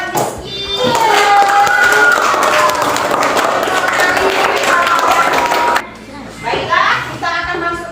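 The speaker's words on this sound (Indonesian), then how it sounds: "Berikan aplaus buat Rizky." A classroom group claps for Rizky, with steady, full applause lasting about six seconds, then a brief pause and a smaller burst of clapping with chatter.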